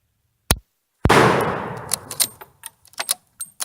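Rifle fire at a shooting range from a 1902 Rolling Block or an M1891 Carcano: one sharp crack, then a louder shot whose echo rings out, followed by a run of small metallic clicks and clatters from the action.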